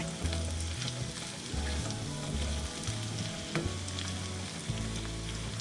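Sliced potatoes and onions fry in a hot pan with a steady, close crackling sizzle that runs throughout, alongside a low tonal hum in the background.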